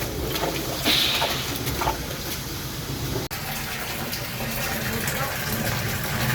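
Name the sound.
water being poured into a septic tank drain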